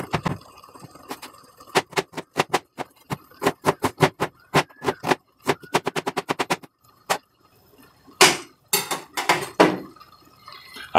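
An onion is chopped coarsely by hand, a knife striking the board in quick bursts of sharp, close taps with short pauses between runs, and no talking.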